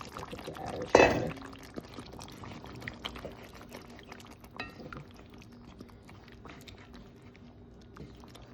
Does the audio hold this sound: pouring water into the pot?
yes